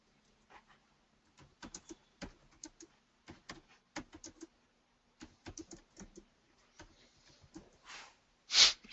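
Typing on a computer keyboard during a T-SQL lesson: sparse, close clicks in short irregular bursts with pauses between, then a brief sniff at the end.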